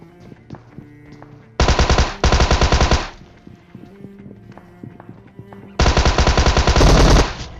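Automatic gunfire in the PUBG Mobile video game, several loud rapid bursts of machine-gun fire separated by quieter stretches of in-game clatter and hoofbeat-like footsteps.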